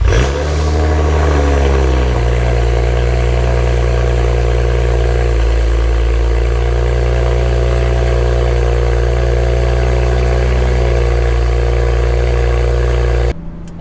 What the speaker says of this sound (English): So we're going to start with a semi-cold start